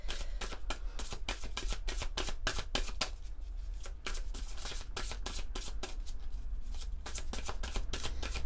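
Oracle cards are shuffled by hand, a dense run of quick, crisp riffling flutters close to the ear, with a short pause midway before the shuffling resumes.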